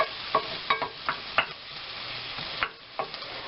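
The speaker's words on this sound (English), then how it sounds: "I love the smell of cooking onions." Onions cooking in a pan on a turned-down burner, a soft steady sizzle broken by several scraping stirs at irregular intervals, close and fairly quiet with no talking.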